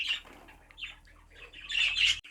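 Dominant pied birds in a keeper cage squawk and chatter up close, in irregular bursts that swell into a louder cluster near the end.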